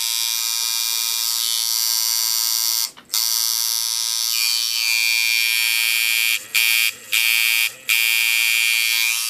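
Dv8 Iron tattoo machine running with a cutback liner and tube, a loud, steady high-pitched buzz held close by, broken by a few very short stops partway through.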